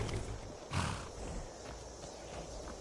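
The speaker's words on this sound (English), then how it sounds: "This is my horse." A horse in a PS4 video game snorts and shifts with a soft burst of breath and hoof sounds, fairly close, over a steady noisy background.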